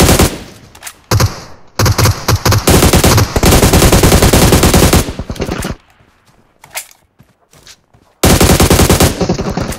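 Loud bursts of automatic gunfire in the mobile battle-royale game PUBG Mobile, rapid rattling volleys broken by short pauses and a quieter stretch before a final burst.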